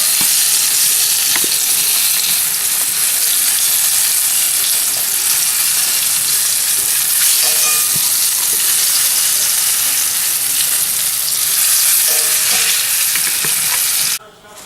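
Floured venison pieces brown in oil in a frying pan, giving a loud, continuous close-up sizzle and crackle that runs for about fourteen seconds and then stops abruptly.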